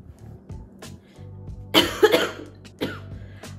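Someone coughs in a short, harsh burst of several hacking coughs, close by, with quieter breathing and faint noises around it.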